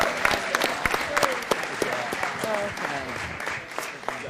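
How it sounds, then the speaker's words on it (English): A room full of people clapping at a Las Vegas city council meeting, dense, steady applause held for several seconds, with voices and cheers mixed in. "how about a nice round of applause for the future leaders of Las Vegas"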